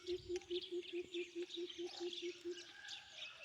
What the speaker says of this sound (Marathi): आपण ऐकू शकता की पक्ष्यांचा किलबिलाट सुरू आहे.